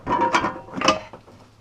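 A brief, close burst of ratchet clicking from removing alternator bolts on a Mustang, a couple of quick mechanical rattles lasting under two seconds.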